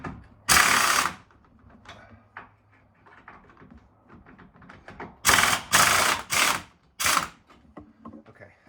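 Ratcheting clicks sound in short bursts as axle bolts are loosened on a Toyota Tacoma: one burst early, then a cluster of four close together near the end, with quieter mechanical handling between them.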